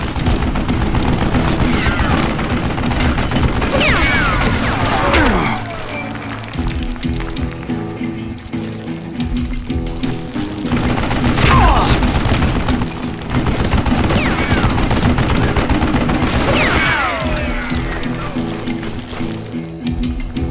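Gunfire from an old man manning a mounted gun in the Western shooter Call of Juarez: Gunslinger, rapid continuous bursts across the whole stretch with ricochet-like whines and a short lull in the middle.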